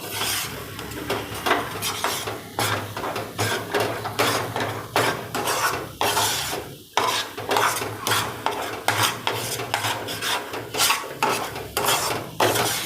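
Steady, rhythmic scraping of a spoon stirring coarse flour roasting dry in a hot pan for magas laddoos, stroke after stroke, with a light sizzle underneath and no talking.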